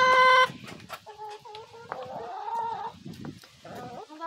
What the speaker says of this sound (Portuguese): nós vamos na horta que a Cris dá uma verdurinha para as galinhas